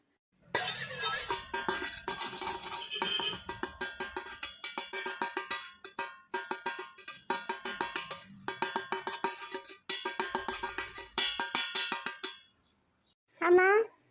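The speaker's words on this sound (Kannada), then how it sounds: "ಏನು ಇಷ್ಟು ಜೋರಾಗಿ ಪಾತ್ರೆ ಮುಚ್ತಾಳ?" A pot lid slammed shut loudly in a Kannada cartoon kitchen, a sharp metallic clang among clattering utensil sounds, with characters talking throughout and a brief bright ringing tone near the end.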